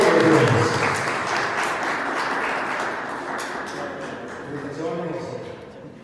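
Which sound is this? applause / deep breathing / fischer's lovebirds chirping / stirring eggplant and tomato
applause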